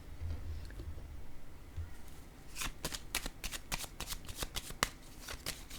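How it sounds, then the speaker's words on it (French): Tarot cards are shuffled and laid down on a table: a soft rustle, then a run of crisp, rapid riffling snaps heard up close. "Je vais déposer une carte sur le diable ici, à l'envers."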